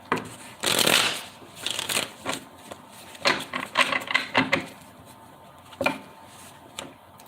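Tarot cards being shuffled in several quick riffling bursts, each a short crisp flutter with brief pauses between, close and moderately loud.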